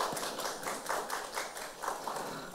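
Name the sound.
audience applause welcoming a speaker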